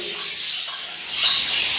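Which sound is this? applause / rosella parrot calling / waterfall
rosella parrot calling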